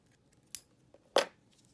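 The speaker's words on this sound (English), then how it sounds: "Take your scissors, cut." Scissors snip crochet yarn at close range, a faint first click followed by a louder, sharper cut about half a second later in an otherwise quiet room.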